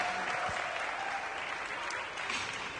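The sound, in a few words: home crowd applauding at ice dance competition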